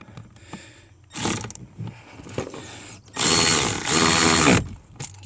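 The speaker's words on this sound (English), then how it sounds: "Power tool." A power tool driving screws into the HVAC mode door actuator of a 2010 Ford F-150 Lariat, several loud close whirring bursts of different lengths with quieter handling noises between them.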